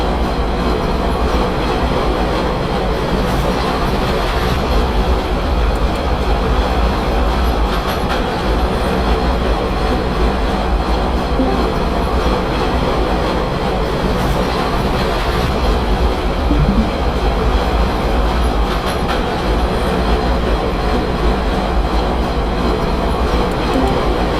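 A New York City Subway R46 train pulling into Fort Hamilton Parkway station in the OpenBVE simulator game: a steady, loud rumble of wheels and rails runs throughout, with faint clicks and squeals rising over it.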